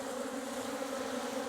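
A swarm of bees drones in a dense, steady buzz close by, a continuous hum with no pauses and no voices.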